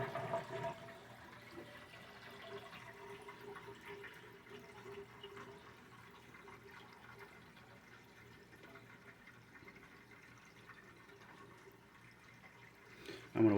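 Water flows steadily through a homemade aquarium sump with its cap off, a continuous rushing and gurgling wash at moderate volume that ends in a brief louder burst.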